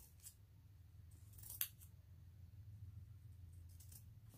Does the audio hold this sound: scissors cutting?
yes